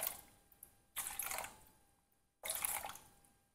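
Water splashes into a bowl of flour for sourdough bread dough in two separate close pours, each a bright gush that fades off into quiet.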